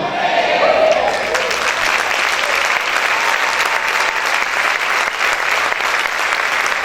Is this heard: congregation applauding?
yes